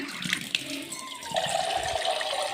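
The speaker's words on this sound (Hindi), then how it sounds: "थोड़ा सा पानी और डाल लेती हूँ ताकि अच्छे से गल जाए" Water runs and pours into a cooking pot in a continuous liquid stream, fairly close and moderately quiet.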